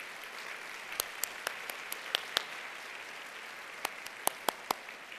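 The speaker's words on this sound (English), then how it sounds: "Please stand and be recognized with one more round of applause" An audience gives a round of applause for state office holders and candidates at a business competition event, a soft continuous patter with a few sharp, close individual claps standing out.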